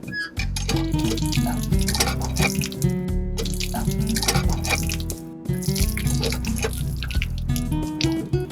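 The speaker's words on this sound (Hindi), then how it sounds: "चल निशांत, जल्दी से हाथ धो और पानी पी।" Water splashes and drips during handwashing at a tap, with irregular pouring and droplets heard over a dense, busy background of music.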